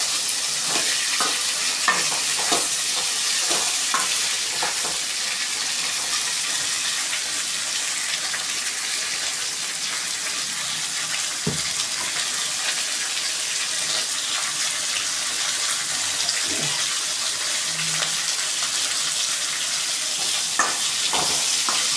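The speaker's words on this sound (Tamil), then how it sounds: "ஸோ அந்த வெண்டைக்காவை போட்டுட்டு நல்லா வதக்கிக்கலாம்." Fresh cut okra is sautéed in a pan, giving a continuous loud sizzle and hiss with occasional scraping stirs close by, and no voices.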